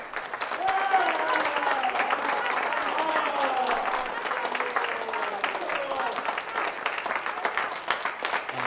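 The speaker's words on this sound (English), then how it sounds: "So if we can give him a round of applause" A concert audience at a high school band Christmas concert gives a round of applause for the man who helped organize it. The steady clapping fills the room for several seconds, with voices and a tonal hum faintly underneath.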